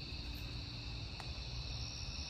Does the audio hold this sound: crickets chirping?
yes